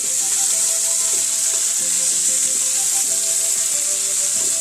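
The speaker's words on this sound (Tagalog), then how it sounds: "Igisa muna tayo ng sibuyas. Tapos bawang. Tapos kamatis." Onion, garlic and tomato sauté in a hot pan with a steady, loud sizzle from start to finish, broken now and then by soft stirring sounds and occasional clinks of a utensil.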